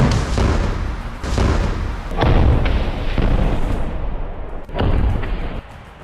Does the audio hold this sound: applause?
no